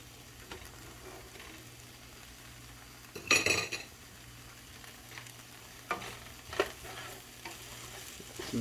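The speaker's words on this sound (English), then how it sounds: "to that we're going to add 3 tablespoons of butter" Three tablespoons of butter melting in a pan while cooking shepherd's pie, a faint sizzle under scattered stirring clinks and scrapes of a utensil against the pan.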